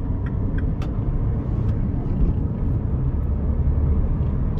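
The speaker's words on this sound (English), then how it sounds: "pulling up to 40 miles an hour, and the car just cruises along very nicely" Seat Leon diesel cruising at about 40 mph on a slightly damp road, heard from inside the cabin as a steady, loud low rumble of engine and road noise with no speech.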